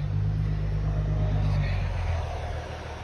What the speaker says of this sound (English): I just heard this truck pull up.